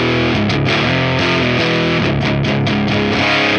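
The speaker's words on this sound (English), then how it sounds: "Let's move on to the crunch channel." Continuous chugging riffs on an electric guitar fed through the crunch channel of a Line 6 Spider Valve HD100 tube amp, thick and distorted with shifting chord changes, loud and close throughout with no voices.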